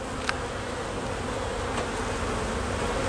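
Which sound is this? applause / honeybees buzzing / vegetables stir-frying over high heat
honeybees buzzing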